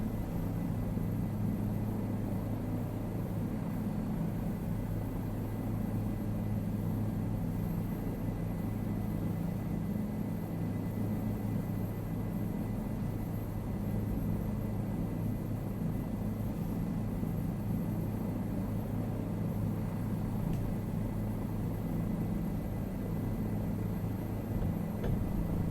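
Steady, loud engine drone and rumble from an airplane in a flight simulator, running continuously around Key West, Florida through a run-on landing, with constant broadband noise and no clear changes over nearly half a minute.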